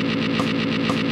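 Distorted metal electric guitar chugs a rapid 32nd-note riff, producing a continuous, dense buzzing wall of tightly packed palm-muted picking with faint periodic accents, loud and unbroken.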